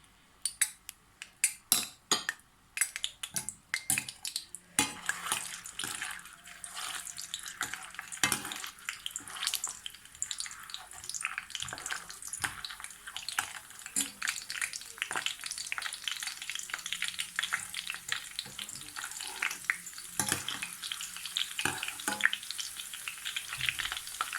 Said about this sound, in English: The oil has heated up, so I will add the onion now and fry it till it turns golden brown.